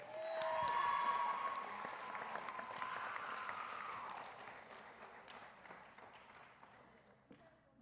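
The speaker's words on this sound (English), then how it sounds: "So give them a round of applause." An audience at a school board meeting applauds, quiet, fairly distant clapping with a few whoops and cheers at the start that gradually thin out over about eight seconds.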